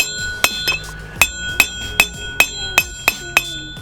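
A hammer taps a bearing cone into a trailer wheel hub about nine times at a steady pace, each blow sharp and loud with a bright ringing clink that lingers between strikes.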